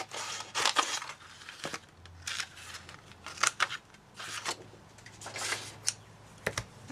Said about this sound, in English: I think I'll cut the daisy out again.